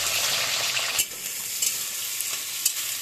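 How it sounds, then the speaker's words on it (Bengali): Onions frying in hot white oil in a kadai for beresta, a constant loud sizzle with a few sharp stirring scrapes, and no voices. "তেল গরম হয়ে গেছে, আমি বেরেস্তাগুলো ভেজে নিচ্ছি।"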